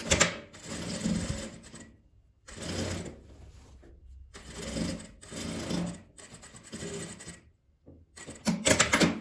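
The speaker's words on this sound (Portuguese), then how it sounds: "Agora eu vou vir aqui, vou passar a costura do meio da minha peça." Domestic sewing machine stitching the middle seam of a multi-pocket fabric pouch, running in several loud bursts of rapid needle chatter separated by short pauses, close up with no talking.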